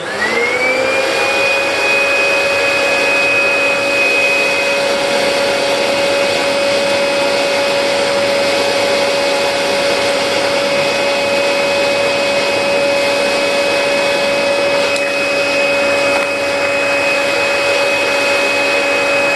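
A Royal vacuum cleaner fitted with a brand-new genuine HEPA bag spins up and then runs at a loud, steady whine with a constant motor tone and airflow hiss throughout.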